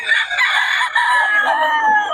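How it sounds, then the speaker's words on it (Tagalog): Roosters at a chicken farm in Bocaue crow loudly and close by, one long drawn-out call filling the moment with a few clucks mixed in. "Ayan solid mga manokis ni Boss Steve mga idol."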